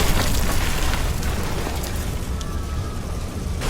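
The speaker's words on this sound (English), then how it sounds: "There's an explosion from the back rooms and everyone starts screaming in panic." A loud explosion sound effect from the back rooms of a club in an audio drama, heard as a dense, sustained roaring burst of noise that stays steady across the clip with no clear talk.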